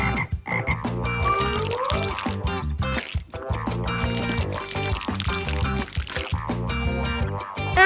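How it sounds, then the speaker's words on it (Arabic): A frog croaks in a children's cartoon science lesson, a repeated close croaking over cheerful background music that plays steadily throughout. "لدي ضفدع."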